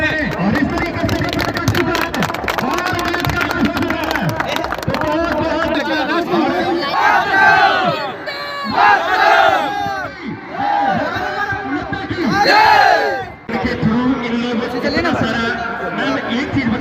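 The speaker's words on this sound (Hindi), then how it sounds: "बहुत जल्द और जोरदार तालियों से स्वागत करें" Large crowd at the opening of a memorial cricket tournament, a loud, continuous hubbub of many voices that swells and dips for the whole stretch, with no clear burst of applause standing out.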